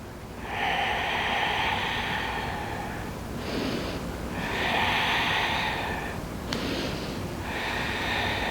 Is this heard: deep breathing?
yes